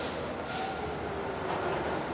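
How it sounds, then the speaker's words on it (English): An approaching cartoon train gives a steady rushing rumble with faint high squeals, continuous and fairly loud through the brief moment. "the noise and rush of the incoming train"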